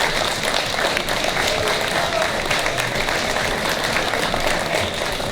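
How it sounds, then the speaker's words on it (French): Audience at a cosplay contest prize ceremony applauds a winner, dense steady clapping from a crowd sustained throughout, with faint voices mixed underneath. "je pense qu'on peut l'applaudir bien fort."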